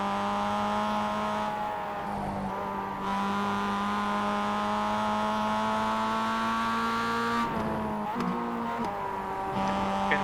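Mazda MX5 engine in iRacing at Laguna Seca, a steady droning note held for several seconds before a brief dip and gear change, then settling into a new pitch, loud and close with no talk.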